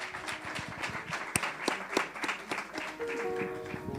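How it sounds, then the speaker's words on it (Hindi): A church congregation claps for Jesus Christ after a sermon, brief, fairly quiet applause with a few sharp individual claps standing out over about four seconds, while a sustained tone enters near the end. "ज़ोरदार तालियां यीशु मसीह के लिए बजाइए"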